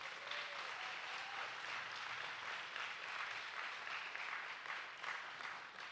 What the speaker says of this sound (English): So let's give families a round of applause